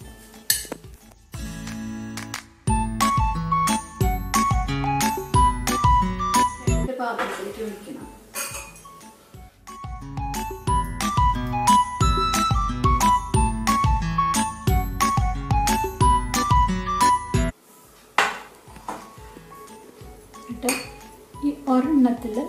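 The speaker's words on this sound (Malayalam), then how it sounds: "ഇനി ഇതിലേക്ക് ഈ പൊടി കുറേശ്ശെ കുറേശ്ശെ ഇട്ടിട്ട് നമുക്ക് മിക്സ് ചെയ്യാം" Metal spoon clinking and scraping rhythmically against a bowl while powder is stirred into marble cake batter, bright repeated clinks in steady bursts with short pauses, a person talking intermittently nearby.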